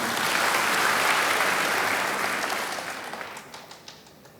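A church congregation claps during a worship service, a dense, steady wash of hands that holds strong for about two seconds, then thins and fades to scattered claps.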